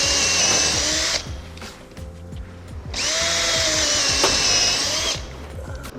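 Power drill whirring in two long bursts, one near the start and one mid-clip, with a short gap of quieter ambience between them, loud and close during a wooden slot car track table build.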